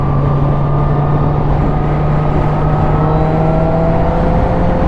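A 2021 Honda CBR1000RR motorcycle under hard acceleration, its engine a loud, steady drone that climbs through the gears with rising pitch, layered over heavy rushing wind noise.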